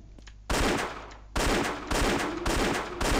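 Gunfire in the video game Indiana Jones and the Infernal Machine: after a quiet start, loud, close bursts of shots arrive in four or five roughly regular blasts, each with a short decaying tail.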